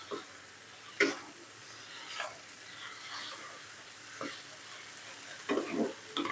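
Glass noodles with egg stir-fried in a pan with cabbage and wood ear mushrooms: a steady, fairly quiet sizzle broken by scraping stir strokes at irregular intervals, with no talking.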